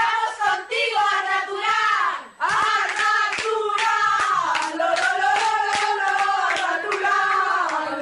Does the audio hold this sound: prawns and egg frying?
no